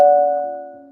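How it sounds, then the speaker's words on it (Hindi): A doorbell rings once with a clear, bright chime tone that starts sharply and fades steadily over about a second. "रानी डोरबेल बजाती हैं"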